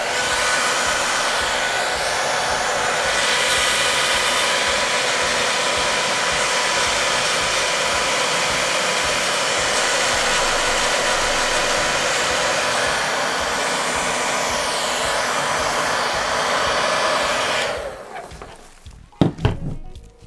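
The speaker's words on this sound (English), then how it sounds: "Used the dryer for a long time to kind of make these colors blend together" A hair dryer blows steadily on melting crayons for most of the stretch, a loud continuous rushing hum, then cuts off near the end, leaving a few brief knocks and handling sounds.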